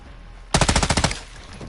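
Rapid automatic rifle fire in Call of Duty Modern Warfare 2, a close, loud burst of about ten shots in quick rhythm, starting suddenly after a quiet moment and fading out with a short tail.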